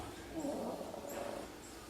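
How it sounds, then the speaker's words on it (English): A sleeping dog snores softly with a low, faint breathy rasp, a single drawn-out snore in a quiet indoor room. "She's passed out and snoring."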